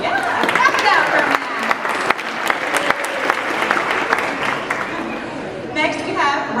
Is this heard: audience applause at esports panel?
yes